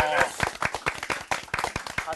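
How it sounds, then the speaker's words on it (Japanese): A studio audience claps in a sharp, rhythmic burst during a live special broadcast, close and fairly loud, with talk over the clapping. "たかしに拍手"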